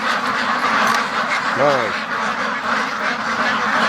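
Free-range ducks quack in a pen, with one clear quack standing out midway above a constant busy background chatter of the flock, and someone says a brief word.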